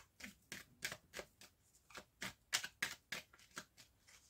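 A deck of cards is shuffled and cut by hand in a quick run of about fourteen crisp, riffling flicks at an even rhythm, close up and quiet, with no talking.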